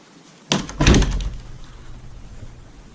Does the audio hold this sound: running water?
no